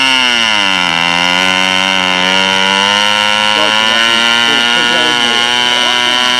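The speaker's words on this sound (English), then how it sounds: "that's not a lawnmower, it's a motor." A control-line model airplane engine with rear exhaust runs at a loud, high-pitched whine close by, its pitch dipping and then settling, while people talk faintly in the background.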